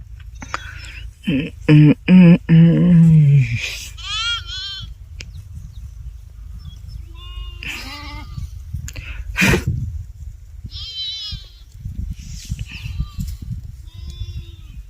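Sheep grazing by a village pond bleat in a few loud, wavering calls up close early on, then fainter bleats follow amid quiet outdoor background and occasional speech.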